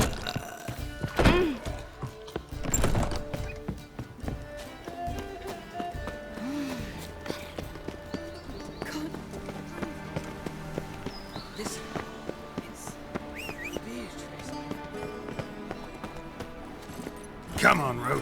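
Horse hooves clip-clop steadily as the horse Roach trots in The Witcher 3, mixed under continuous game music and ambience with a few louder thumps.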